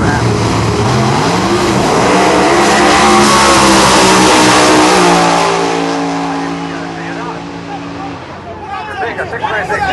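A Pro Mod drag racing car on a qualifying pass roars at full throttle, its engine note rising through gear changes before fading into the distance amid loud track noise and crowd murmur.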